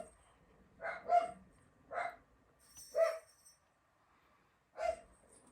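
Dogs being walked down the street give four separate barks spaced about a second apart, faint and distant, with quiet gaps between them.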